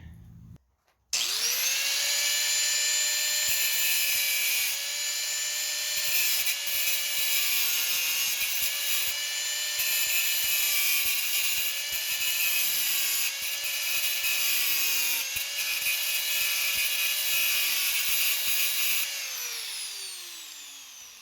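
A grinder wears down a bulbous weld on a 3rd-gen Toyota Sienna fuel door hinge, spinning up and whining steadily at a high, shrill pitch for about twenty seconds with small wavers in tone, then winding down, close and loud.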